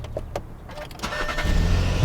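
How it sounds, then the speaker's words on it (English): A new Volkswagen Beetle with a 2-liter turbo engine idles, its exhaust a steady low rumble that grows fuller and louder toward the end, with a few light clicks and mechanical noises over it. "It's just your pretty standard 2-liter turbo idle sound."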